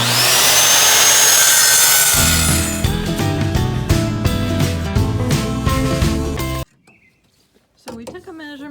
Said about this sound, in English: now we're having to use our corded skill saw